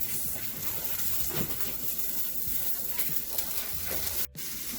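Chopped onions with zucchini and carrots frying in oil, giving a steady soft sizzle and crackle that runs throughout at moderate level, briefly cut off near the end.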